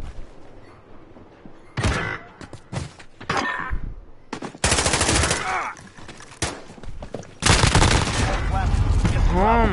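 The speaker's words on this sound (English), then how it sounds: "God, they're literally all using shotguns." Shotguns, among them the 725, boom in a Modern Warfare match as loud heavy blasts in quick bursts, with sharp gaps and several clustered volleys growing denser toward the end.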